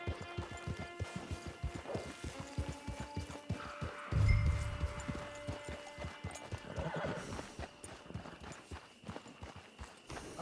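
Horse hooves clip-clop in a steady rhythm in the video game Red Dead Redemption 2 Online, with a horse neighing partway through and a soft musical backdrop underneath.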